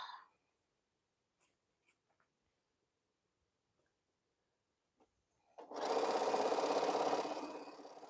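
A long arm quilting machine starts up after near silence broken by a few faint clicks, then runs loud and steady with a fast mechanical stitching whir close by.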